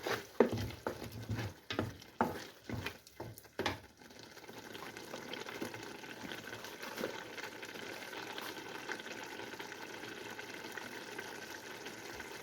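Sugar and cinnamon mixture simmering in a pot, several sharp scraping stirs in the first few seconds, then a soft continuous bubbling simmer left alone at low level.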